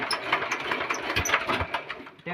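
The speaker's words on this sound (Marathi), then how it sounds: "अशा प्रकारे आता आपण ट्रॅक्टर चालू करत आहे." A VST power tiller's diesel engine chugs unevenly as it is started, with rapid irregular knocking pulses close by and no voices.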